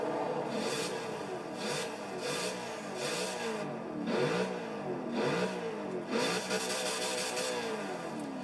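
A 1990s Corvette in the video game Forza Horizon 4 revs repeatedly. Its engine note rises and falls in about six distinct pulses, loud and close, with no talking.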